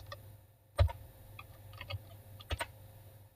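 A handful of sparse, quiet keystrokes on a computer keyboard, with a couple of isolated taps spread across a few seconds and a low room hum beneath, no talking.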